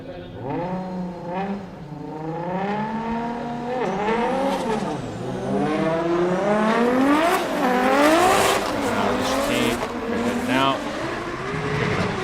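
Toyota JZX100 Mark II and Chaser drift cars battle side by side during a Formula Drift Japan top-16 round at Okayama International Circuit. Engines rev and rise continuously, with tire squeal building mid-run, under steady commentary.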